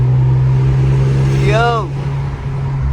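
A straight-piped Infiniti Q50 drones loudly and steadily at close range, a low throbbing exhaust note held throughout, while a person briefly calls out over it.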